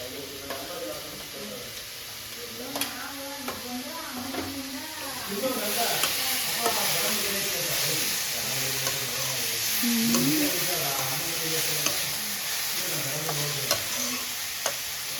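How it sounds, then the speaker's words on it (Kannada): Tomatoes frying in a home kitchen pan, a steady close sizzle with occasional stirring scrapes while a voice talks over it. "ಸ್ವಲ್ಪ ಫ್ರೈ ಆಗುತ್ತೆ."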